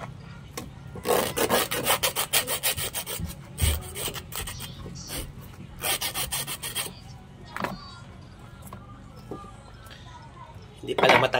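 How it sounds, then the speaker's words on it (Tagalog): Scales being rasped off a freshly caught fish in dense bursts of scraping strokes, loud and close, with pauses between runs and a few faint clinks. "Sarap kaliskisan pag bagong huli. Hindi madikit yung kaliskis."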